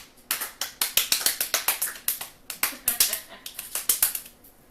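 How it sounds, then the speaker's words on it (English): Hands clapping slowly in a deliberate slow clap, about twenty sharp close claps in a steady but slightly uneven rhythm, with no voices over them. "Slow clap."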